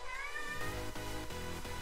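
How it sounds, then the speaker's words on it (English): A cat lets out a loud, drawn-out meow followed by a few shorter repeated cries, close and clear with no talking over it. "It's my cat."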